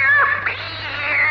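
A cat yowls and meows loudly in a drawn-out, wavering caterwaul with rising and falling pitch over a steady low hum, set in a Spanish-dubbed Jackie Chan kung fu film.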